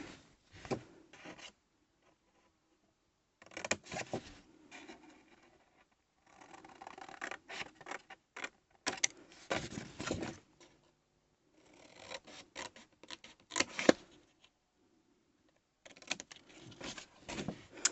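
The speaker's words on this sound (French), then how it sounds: "Je coupe et je vous montre mon ciseau" Scissors snip through paper while trimming pieces for a handmade flipbook pouch, heard as bursts of crisp cutting strokes separated by short quiet pauses, close and moderately loud, with no talking.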